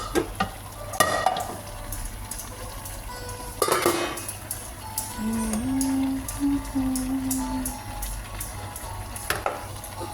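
Mushrooms and vegetables stir-fried in a pan, with a soft sizzle under scattered clanks and scrapes of a utensil against the pan and a few sharper knocks.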